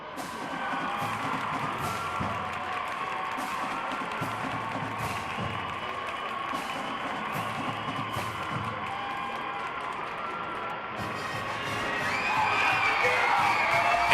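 Wrestling arena crowd in Jefferson cheering and clapping for the Roland brothers, Greg and Earl, a steady roar of whoops and applause that swells louder toward the end.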